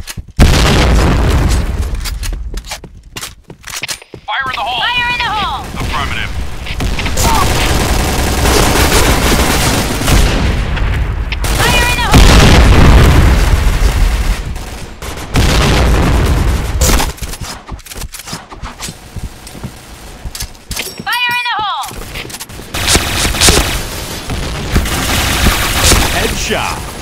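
Grenade explosions and heavy gunfire in a first-person shooter game, dense loud booms and bursts repeating across the whole stretch, with shouted voice callouts cutting in briefly several times.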